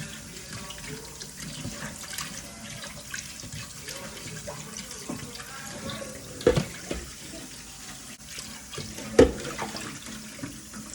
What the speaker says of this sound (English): Rinsing my meat off.